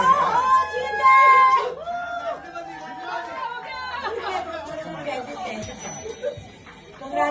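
At a trailer launch event quiz game, a bicycle-style bell rings in bright, repeated trills amid lively chatter and laughter from a crowd, with people talking over it.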